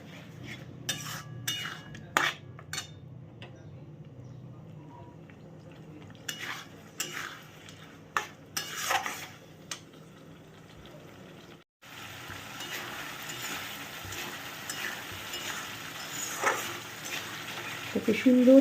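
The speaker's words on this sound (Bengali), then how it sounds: "ওকে সুন্দর করে আস্তে আস্তে করে কষাতে হবে লো ফ্লেমে।" Young jackfruit stir-fried with spices and cashew-raisin paste over a low flame, soft sizzling under intermittent scraping and clinking of a utensil against the pot, then a denser, louder hiss of frying.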